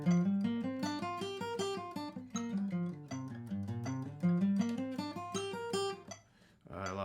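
Steady sixteenth-note guitar picking runs continuously in even, rapid rhythm, close and clear, with moving single-note patterns before a brief pause and a final strum.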